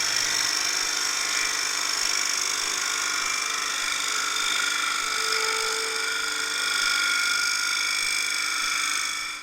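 A Robert Sorby multi tip tool shear-scrapes wood spinning on a lathe: a steady whining hum with a thin, even scraping hiss running unbroken throughout at close range, no voices.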